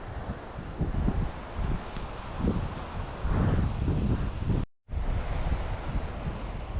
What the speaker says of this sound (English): The wind is bitter cold and the sun's setting.